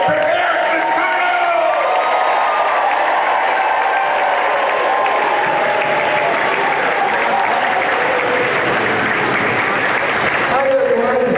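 A large crowd at the Fall Games opening ceremonies applauds and cheers for the Athlete of the Year, a loud sustained wash of clapping with whoops and crowd voices throughout.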